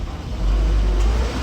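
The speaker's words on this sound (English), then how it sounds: "we can go up through the gears here" A 1959 Land Rover Series II 109-inch pickup in four-wheel drive drives over gravel, its engine a loud, low, steady drone that swells as it accelerates in gear; no one speaks.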